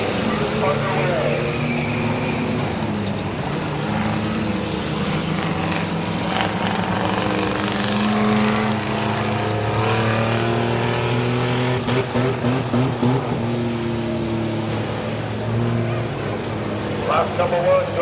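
Race cars roar around Midvale Speedway in a twelve-lap trailer race at the fall classic, engines droning and rising in pitch continuously, with voices talking over the steady din.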